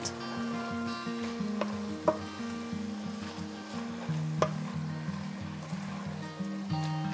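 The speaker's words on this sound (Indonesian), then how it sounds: "Ini kita masak biar kimchinya agak layu ya." Kimchi stir-fries in a pot for pork kimchi stew, a low steady sizzle with occasional scraping clinks from stirring, set under quiet background music.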